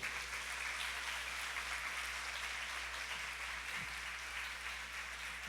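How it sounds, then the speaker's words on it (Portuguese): A church congregation applauds during a sermon, a faint, distant, even wash of clapping sitting over a steady low electrical hum. "Você pode dar uma salva de palmas, Senhor?"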